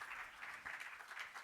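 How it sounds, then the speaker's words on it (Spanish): A church congregation claps together during a Spanish-language worship service, a dense, steady wash of applause that holds evenly throughout with no voices standing out. "Sí, denle palmas al Señor"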